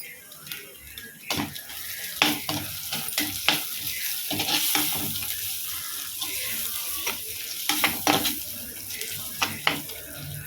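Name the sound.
chopped ginger frying in a pan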